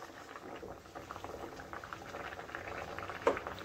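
Potatoes boil in a covered pot, a soft, steady bubbling and burbling with small pattering pops and one sharper pop near the end.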